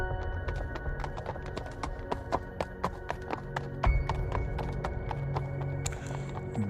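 Horse hooves clip-clop in a steady, even rhythm as riders head toward a big river on a full-moon night, close and moderately loud, with occasional faint snorts and no talking.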